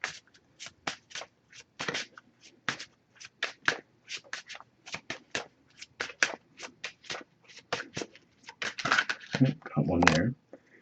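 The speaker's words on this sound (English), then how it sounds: "I'm just going to pull a single card from this deck." A Messages of Love oracle card deck is shuffled in quick riffling bursts, a steady series of short crisp flutters close by, ending with a louder rustle as a single card is drawn.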